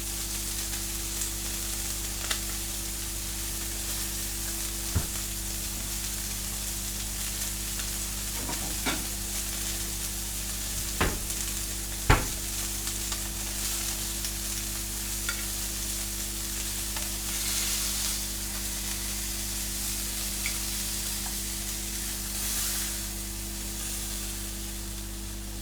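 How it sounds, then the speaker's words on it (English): Greens toss in garlic butter in a hot pan, making a steady, moderate sizzle with occasional sharp clicks and scrapes from stirring over a faint background hum, and no voices. "We'll throw our greens in. We'll toss those for about a minute."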